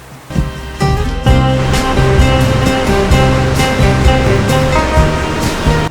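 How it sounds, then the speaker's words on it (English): Loud, continuous rushing water roaring steadily as it gushes through an underground cave and waterfalls in New Zealand, with a deep rumble underneath. "there's great waterways gushing through and waterfalls"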